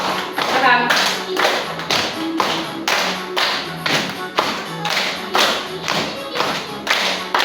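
A group claps hands together in unison during a guided group exercise, sharp loud claps in a steady repeating rhythm with short gaps, close by and clearly audible.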